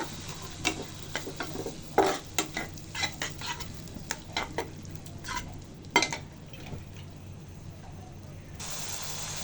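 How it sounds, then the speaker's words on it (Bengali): Spice paste simmers and is stir-fried with a little water in a pan, producing a soft bubbling sizzle with repeated sharp clicks and scrapes of a spatula against the pan, then a steadier hiss at the end. "পানি দিয়ে মশলাটা ভালো করে কষিয়ে নিব"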